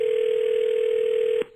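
A telephone line tone while calling a wife, a steady loud single-pitch tone held for over a second, then cut off abruptly.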